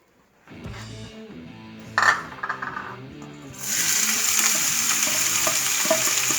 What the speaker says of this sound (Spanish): derretir la grasa donde vamos a cocinar la cebolla